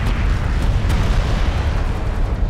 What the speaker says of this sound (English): Our bomber is taking fire.